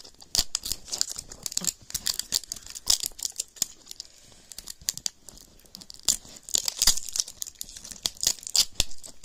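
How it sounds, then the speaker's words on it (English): Hard plastic toy packaging of a Zuru Mega Gross Mini is torn and crinkled open up close, a quiet scene of irregular bursts of sharp tearing, crackling and crunching with short pauses between them. "Dude, what is wrong with this packaging? It's so hard to open."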